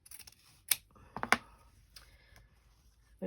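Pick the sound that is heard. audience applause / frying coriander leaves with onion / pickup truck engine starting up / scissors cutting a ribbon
scissors cutting a ribbon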